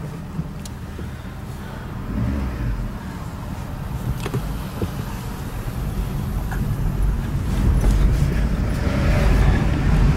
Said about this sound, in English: Except for all these cars. Cars, cars, cars.